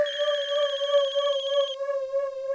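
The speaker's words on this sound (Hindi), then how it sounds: "अरे कब से फोन बज रहा है, उठाती क्यों नहीं?" A telephone bell rings steadily with a bright, repeating electronic tone that shifts partway through, heard alone and moderately loud in an indoor household setting.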